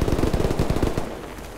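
Rapid bursts of automatic gunfire in a game, hitting the player about three times, with a loud, clustered rattle in the first second that gives way to quieter background noise.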